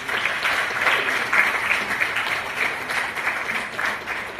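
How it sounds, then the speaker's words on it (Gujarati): An audience applauds to welcome a guest at an awards event honouring women achievers, with dense, even clapping from many people that holds steady throughout. "એમને આપણે ખૂબ તાળીથી વધાવીશું."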